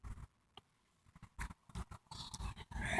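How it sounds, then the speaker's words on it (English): A two-month-old puppy barks in short, sharp bursts with some low growling, the noises coming in scattered clusters that grow louder and more continuous toward the end, with no talking. "My dog was just barking a lot."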